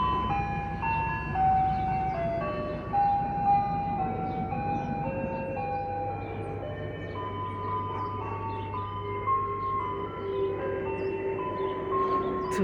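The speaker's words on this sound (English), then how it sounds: "Two ice cream trucks today." An ice cream truck plays the Turkey in the Straw jingle in a high-pitched, tinkly electronic melody, steady and fairly loud throughout over a low engine rumble.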